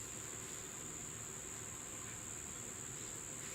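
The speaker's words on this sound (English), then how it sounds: "Oh, there are cicadas. Well, I've got cicadas." Cicadas chirping outdoors, a continuous shrill insect buzz that holds steady and fairly faint throughout, with no talk.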